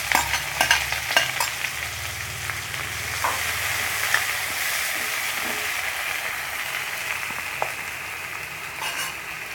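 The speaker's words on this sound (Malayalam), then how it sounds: "അതിലേക്ക് നമുക്ക് അരിഞ്ഞു വെച്ചിരിക്കുന്ന 2 മീഡിയം സൈസ് സവാളയാണ് ഞാൻ ഇട്ടിരിക്കുന്നത്." Two medium chopped onions fry with mustard seeds in a pan for spicy pasta, a steady close sizzle with scraping stirs and small pops early on, then a constant frying hiss.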